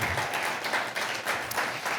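Applause from an audience during a Spanish-language Christian podcast, a steady dense wash of clapping lasting the whole two seconds with no talk over it.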